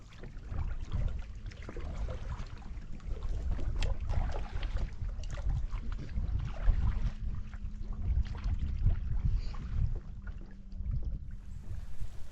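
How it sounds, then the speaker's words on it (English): Steady wind rushes across an open lake, a constant low buffeting roar with soft splashing, no voices. "Probably just a steady 5-10 kilometer an hour wind."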